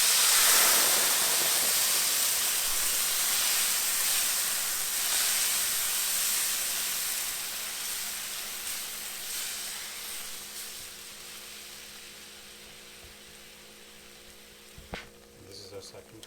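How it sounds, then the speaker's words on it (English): Water is poured into a hot pan while cooking Iranian fesenjan and bursts into loud steamy hissing that gradually fades to a quieter sizzle, with faint clinks near the end. "What we're going to do, we're going to add 2 cups of water."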